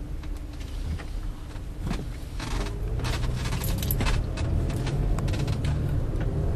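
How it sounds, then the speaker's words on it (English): A Toyota vehicle pulls away from rest, a steady low rumble and road noise building gradually with faint creaks and mechanical rattles inside the cabin, no voices over it. "I'll go ahead and bring the vehicle into motion and demonstrate that."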